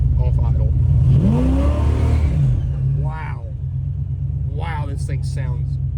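A turbocharged 550 HP police car engine revs and accelerates in first gear just off idle, giving a loud, steady low rumble with rising engine tones, while someone talks over it.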